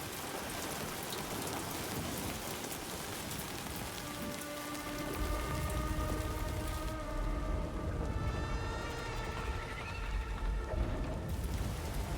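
Steady rain pattering across a surface in the video game Death Stranding 2, broadband hiss with a constant wash of droplets, no talking.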